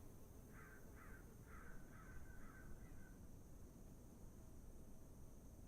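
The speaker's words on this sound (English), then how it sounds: "Can hear the birds quacking." Birds call in the Microsoft Flight Simulator game, a short series of about six faint, evenly spaced cawing calls over a steady hiss of wind and engine noise.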